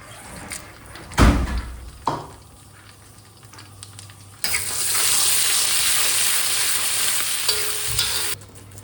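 Butter and white oil heat under a prepared mixture. A loud broadband frying hiss starts partway through and holds steady, preceded by a few clanks and stirring knocks.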